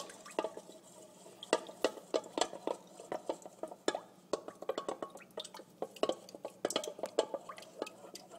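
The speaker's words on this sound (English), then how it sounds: "We're going to want to mix these together." Quick, irregular clinks and wet taps of a spoon stirring eggs in a bowl for crepe batter, close by and fairly quiet, with no talking.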